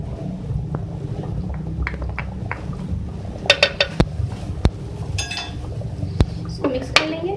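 Beef cooking in a pot with garam masala and allspice being stirred in, metal spoon clinking and scraping against the pot in scattered sharp taps over a low sizzling bed, moderately close.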